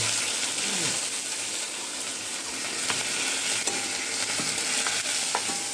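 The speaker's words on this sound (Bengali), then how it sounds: "দেখো একটা শুকনো লঙ্কা দিয়ে দেবো, সর্ষে দিয়েছি, আর দিয়ে দেবো কারি পাতা।" Dried red chili, mustard seeds and curry leaves sizzle and crackle steadily in hot oil in a home kitchen pan, a close, continuous frying hiss with a few sharp pops and light stirring.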